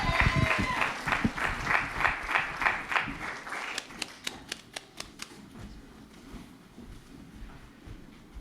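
Applause from an open mic poetry audience, dense clapping for about four seconds, then thinning to a few scattered claps before fading into room murmur.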